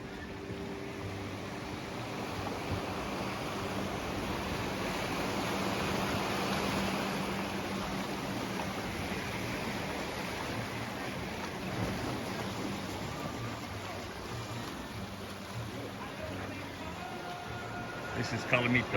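Surf washes ashore at Colomitos beach near Puerto Vallarta in a steady broadband rush that swells and eases, moderately close, with a faint voice in the background.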